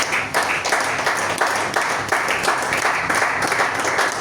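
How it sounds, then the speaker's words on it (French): A church congregation claps in sustained, dense applause that carries on steadily through the whole stretch without talk. "Acclamons la parole de Dieu une fois de plus"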